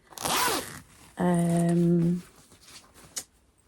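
Someone opens the zipper on a sewn handmade bag, a brisk rasp followed by a longer, tonal pull close to the microphone, with a small click afterward.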